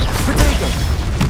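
A Confringo blasting spell explodes in Hogwarts Legacy, giving a short, dense burst of booming, crackling noise that fills the whole moment at high loudness.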